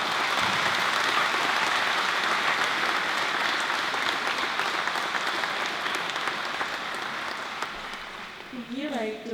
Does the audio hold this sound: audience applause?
yes